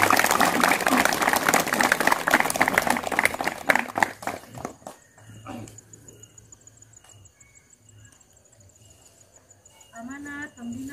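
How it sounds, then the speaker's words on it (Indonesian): Crowd applause for Indonesia at an outdoor ceremony during a tree-planting event, a burst of dense clapping that thins into scattered claps and fades, with a voice speaking at the close. "Tepuk tangan untuk Indonesia."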